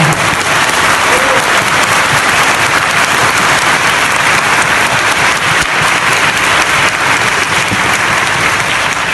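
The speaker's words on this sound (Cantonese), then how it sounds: "咁請大家俾啲掌聲" An audience at a book launch event in London applauds loudly and continuously, dense steady clapping from a full room that fills the whole stretch without letup.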